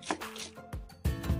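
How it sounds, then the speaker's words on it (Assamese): A knife chops through onions being sliced lengthwise, about half a kilo, in a home kitchen; a few quick, close cuts land with sharp board taps and no talking. "আধা কেজি পিয়াজ লৈ দীঘলীয়াকৈ কাটি লৈছোঁ"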